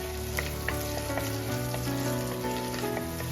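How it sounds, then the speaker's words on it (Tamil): Masala frying in oil in a pan for Kerala fish curry, a steady dense sizzle with occasional faint clinks, close and continuous with no talk. "ஸோ இப்போ இந்த எண்ணெயிலே இந்த மசாலா நல்லா வதங்கி கொஞ்சம் அந்த கலர் வந்து"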